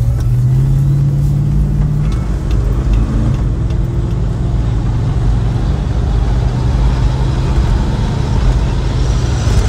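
A 1964 Plymouth Barracuda accelerates with a loud, steady engine roar and low rumble, heard from inside the car while under way, with no talking.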